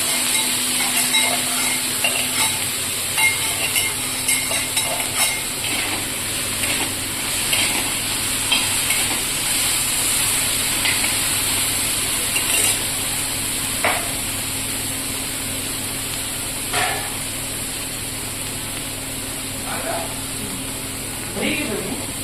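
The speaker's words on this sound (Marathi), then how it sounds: "कांदा गेलेला आहे तळून घेते" Onion frying in oil in a pan for thecha, a steady close hiss and sizzle running throughout, with occasional clinks and stirring scrapes.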